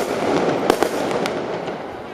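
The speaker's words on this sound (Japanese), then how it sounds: "花火も威勢よく上がりました。" Fireworks going off at a yosakoi dance event in Kurume, Japan, several sharp bangs and crackles in quick succession over a loud continuous crowd and outdoor rumble.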